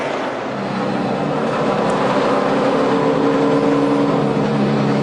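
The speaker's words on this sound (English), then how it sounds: "You hear the engine running." A race car engine drones steadily at high revs, loud and continuous, with a slight rise in pitch as it runs on.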